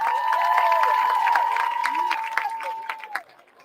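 Crowd applause and cheering at a high school football game between Joplin and Neosho honor a senior, a steady dense clapping roar that carries on before thinning out toward the end, with a sustained horn-like tone running underneath.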